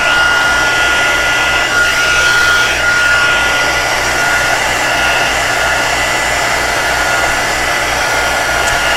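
A handheld heat tool blows loud and steady as it melts embossing powder on small craft pieces held in clothes pegs on a board, a constant close whirring roar with no break.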